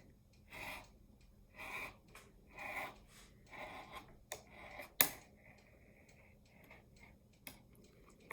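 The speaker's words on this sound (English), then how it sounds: "I'm going to cut this out right here." Scissors cutting fabric along a curve, heard as a series of close, soft rhythmic snips and crunches about once a second, followed by a few faint clicks in a quiet room.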